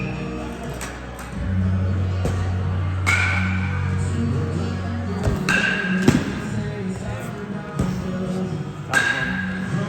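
Slider thrown into a catcher's mitt during a bullpen session at 80-90% intent, landing as a sharp leather pop that stands out over a steady low hum and some background voices.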